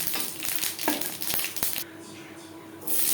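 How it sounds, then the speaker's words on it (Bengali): Dry red chilies and black mustard seeds sizzle and crackle steadily in oil in a pan with a few sharp stirring scrapes, close up, then the sizzle briefly drops quieter before swelling again. "কড়াইতে তেল দিয়েছি। ফোড়নে দিয়ে দেবো শুকনো লঙ্কা, কালো সর্ষে,"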